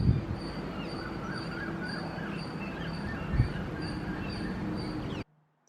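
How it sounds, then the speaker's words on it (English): Repeated high bird chirps sound over steady outdoor background noise, fairly faint and regular, with a brief low thump midway before the sound cuts out. "listen to the birds chirp in the mornings"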